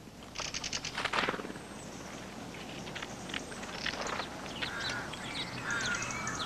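A mistle thrush gives a dry, rasping rattle of rapid clicks up close, followed by scattered softer calls and faint birdsong in the background.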